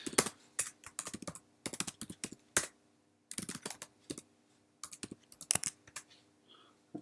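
Typing on a computer keyboard in a terminal window: soft, close bursts of rapid key clicks separated by short pauses, quiet and with no talk.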